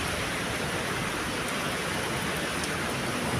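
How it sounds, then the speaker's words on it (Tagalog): Heavy rain pours down outdoors during the wet season, a dense, constant hiss of water striking surfaces close by, steady and unbroken with no one talking. "lakas talaga ng ulan."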